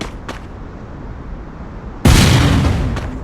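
Two grenades go off in the Free Fire battle royale game: a faint distant pop, then a loud, close blast with a long rumbling tail, alone with no voices.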